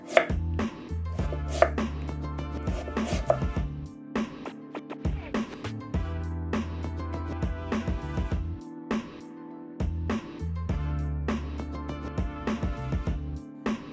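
A knife chops daikon radish on a board for a dish, with rapid close clusters of knife strikes broken up by brief pauses.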